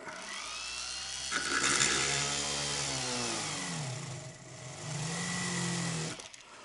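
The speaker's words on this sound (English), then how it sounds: "So I've just got to go around now, drill all these out." A power drill bores holes into a metal Roman dodecahedron for mounting small spheres, a steady close whine that rises and falls in pitch as the bit bites, running continuously before cutting off.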